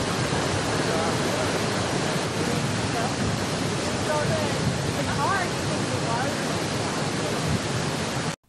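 Floodwater roars through the opened Bonnet Carre spillway on the Mississippi River near New Orleans, a dense, unbroken rushing wash heard at length with a faint voice beneath it.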